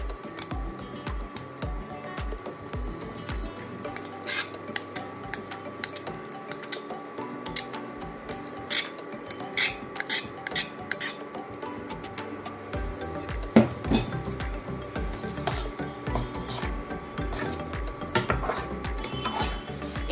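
Mashed potato mixed into a spice masala in a pan, heard as continuous spoon clinks, ticks and scraping against metal over a low background hum, steady throughout with no talking.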